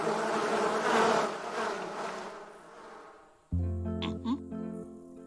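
Cartoon bees buzz loudly in a dense drone that fades down, then a brighter tonal buzz cuts in with a few rising whines.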